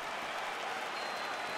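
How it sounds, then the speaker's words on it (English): Video game arena crowd in UFC 4 roaring as a fight gets underway, a steady broad wash of cheering and applause-like noise filling the whole stretch without a break. "crowd getting excited as this fight gets underway"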